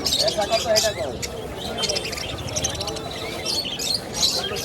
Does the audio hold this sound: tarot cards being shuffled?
no